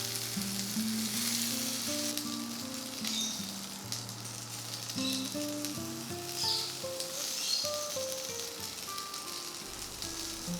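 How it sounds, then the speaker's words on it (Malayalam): Paneer tikka sizzles steadily in a hot pan as the pieces are shifted from the hottest spot to a cooler area, a dense continuous frying hiss with faint scraping and stirring, close and unbroken throughout with no voices. "ഇപ്പോൾ പാനിൽ ചൂട് കൂടിയ സ്ഥലത്തു നിന്ന് ചൂട് കുറഞ്ഞ സ്ഥലത്തേക്ക് പനീർ ടിക്ക അങ്ങോട്ടും ഇങ്ങോട്ടുമായിട്ട് മാറ്റി വയ്ക്കണം."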